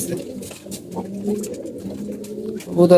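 Domestic pigeons coo in a loft, their low throaty calls overlapping steadily at close range and swelling louder at the very end.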